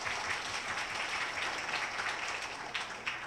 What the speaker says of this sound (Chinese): 大家可不可以掌声？